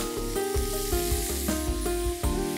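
Tomato goes into a pan of sizzling veal rolls, giving a loud, steady frying hiss with crackles and stirring scrapes close by.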